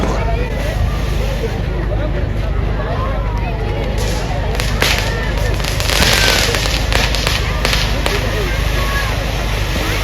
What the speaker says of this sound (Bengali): এখানে কিন্তু বাজি ফাটছে সবাই আনন্দ করছে